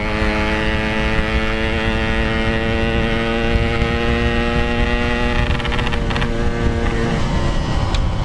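Yamaha RX two-stroke motorcycle, fitted with a six-speed gearbox and a leaking carburetor, heard while riding, a loud, steady buzzing engine drone that holds an even pitch with wind and road noise beneath.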